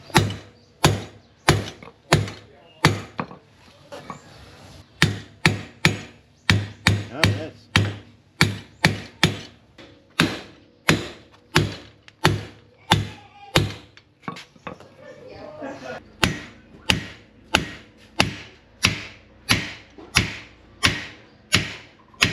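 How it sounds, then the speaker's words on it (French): Sledgehammer pounding metal in repair work on a tandem bicycle: a long series of sharp, ringing heavy blows at a steady rhythm, loud and close, with occasional voices in the background. "Bon, on a changé de modèle de marteau. On a pris une masse."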